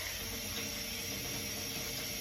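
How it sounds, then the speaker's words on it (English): Cold tap water runs while food is rinsed in a home kitchen during meal preparation: a faint, steady hiss of flowing water with no talk. "rinsing these off with some cold water"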